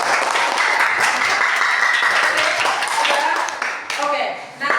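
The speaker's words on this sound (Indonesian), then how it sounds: "Oke, tepuk tangan." Steady applause fills a classroom, dense clapping from a group of students that holds evenly for several seconds before thinning out, with a voice speaking near the end.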